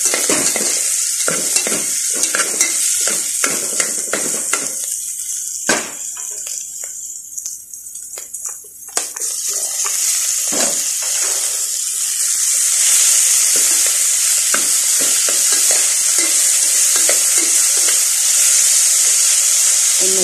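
Tomatoes fry in a pan for a cabbage dish, hissing and crackling loudly up close while a utensil stirs and scrapes, with the sizzle briefly dropping then surging back into a steady hiss.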